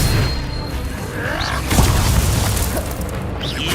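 Combat in Hogwarts Legacy, where the Expelliarmus spell lands with a deep booming burst amid dense, noisy game sound and faint voices.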